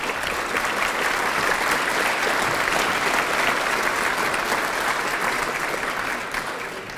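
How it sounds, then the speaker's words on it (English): Sustained audience applause at a community gathering, dense and steady clapping from a large crowd lasting several seconds before tapering off slightly at the end. "If we could give a round of applause to those that have helped."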